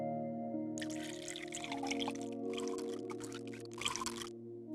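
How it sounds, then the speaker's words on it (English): Distilled water is poured into a one-liter glass standard flask in a chemistry lab, splashing in several separate bursts over a steady background hum. "Add a small amount of distilled water to it."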